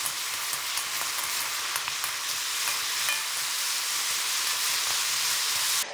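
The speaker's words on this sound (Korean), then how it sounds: "자, 이제 양념이 많이 쫄아들었으니까 튀겨놓은 치킨을 넣고 버무려 줄게요." Fried chicken is tossed in a reducing soy sauce glaze in a pan, giving a loud, continuous bubbling sizzle close by, with faint stirring scrapes and no talking.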